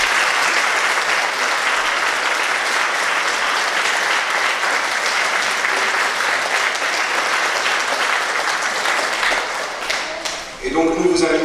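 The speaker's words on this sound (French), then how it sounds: "Je pense qu'il mérite aussi quelques applaudissements" Sustained, dense applause from a congregation for a children's choir at Mass in a chapel, loud and steady for about ten seconds before tapering off, with a brief voice entering at the end.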